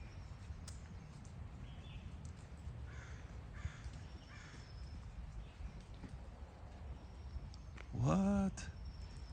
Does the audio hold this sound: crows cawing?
yes